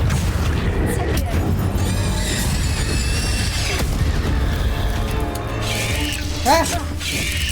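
Hogwarts Legacy spell combat: a Confringo fire spell bursts with booming blasts and crackling magical effects over a busy game soundscape, while a player talks throughout.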